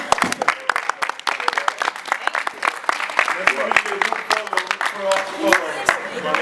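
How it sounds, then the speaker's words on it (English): An audience applauding a speaker after a leadership talk by Kevin Powell, dense sustained clapping throughout from a room full of people, with voices mixed in. "We'll give Kevin a applause."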